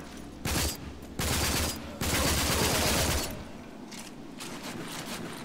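Bursts of automatic gunfire in the PC shooter Rage, three loud rattling volleys of rising length separated by brief gaps, then fading into fainter scattered shots and ambient game noise.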